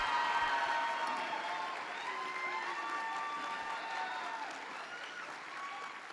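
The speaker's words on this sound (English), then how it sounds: "great big loud of applause to be able to shake the roof off of this place" A big crowd at a JROTC national championship awards ceremony in 2023 claps and cheers, sustained applause mixed with whoops and high shouts that carries on at a fairly even level for several seconds.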